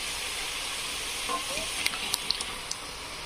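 Eggs hit a hot pan for egg bhurji with green garlic shoots, a soft steady sizzle and hiss with a few small sharp pops toward the end.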